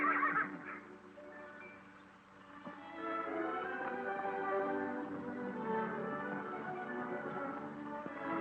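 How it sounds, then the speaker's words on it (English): Horses on a ranch neigh and whinny in a series of calls, a strong whinny opening the clip and further calls following at moderate distance, with no talk. "The most beautiful horses I've ever seen on any ranch."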